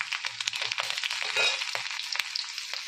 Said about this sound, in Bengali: রসুনটা ভাজা মোটামুটি আমার হয়ে গেছে, আর একটু ভাজি